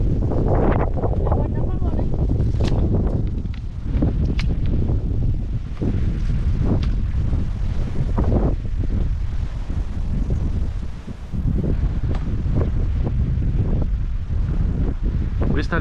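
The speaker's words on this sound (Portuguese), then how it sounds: "O vento chegou, tem bicho. Meu Deus do céu, que temporal." Strong storm wind buffets the microphone on a fishing boat, a continuous loud roar and rumble with gusts, while people talk over it.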